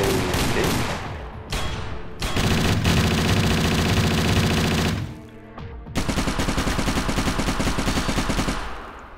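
Automated turret gunfire in Fallout Equestria Remains, with loud sustained rapid-fire bursts that come in three long strings separated by brief gaps and dominate the clip, with no talking.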